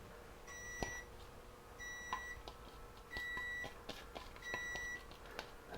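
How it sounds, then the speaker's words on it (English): A kitchen oven beeping to signal it has finished preheating: four separate pairs of bright electronic tones, evenly spaced, fairly faint against a quiet room with soft clatter. "That oven's reminding me it is ready to go."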